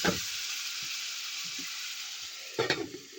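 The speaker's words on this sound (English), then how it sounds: "So what I'm gonna do now is I'm gonna add some hot water." Steady loud sizzling of oxtail frying with a few soft clinks, then a burst of bubbling and splashing as hot water hits the hot pot.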